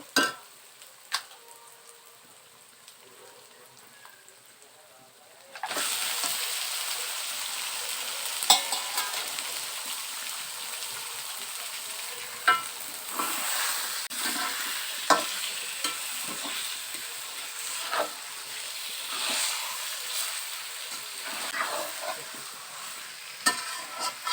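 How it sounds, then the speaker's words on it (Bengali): Chicken pieces hit a pan of fried onion and garlic, starting a loud steady sizzle after a quieter opening, with occasional clinks and scrapes of stirring throughout. "পেঁয়াজ রসুনটা ভাজা হয়ে গিয়েছে। এবারে চিকেনগুলো দিয়ে দিব।"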